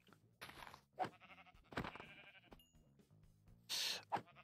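Sheep in the Minecraft video game bleat several times in short, nasal calls, loud and close, with a little clicking game noise between them.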